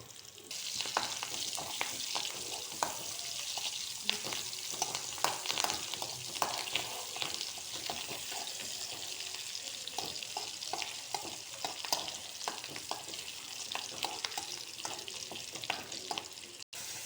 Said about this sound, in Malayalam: ഇനി നമ്മൾ ഒരു ചട്ടി അടുപ്പത്ത് വെച്ചിട്ട് കുറച്ച് സവാളയും വേപ്പിലയും ചുവന്ന മുളകും ഇട്ട് കൊടുത്തേക്കാണ്